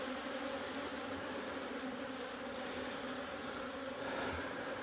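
Honey bees buzz around a hive box in a continuous, dense drone that holds steady for several seconds, moderately loud and close, with no talking over it.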